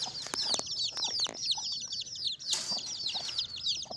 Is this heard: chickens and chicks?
yes